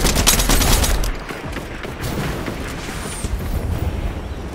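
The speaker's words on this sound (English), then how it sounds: "I'm shooting my ammo" Gunfire in an elimination-style shooter video game crackles in dense, continuous bursts that are loud and close throughout, with no talking.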